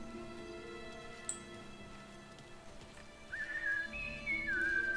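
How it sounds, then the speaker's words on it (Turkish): In the Mafia Definitive Edition game, a person whistles a short, wavering tune that rises and falls, moderately clear over a low background hum with a few faint ticks. "Çaldığın son ıslık olur inşallah"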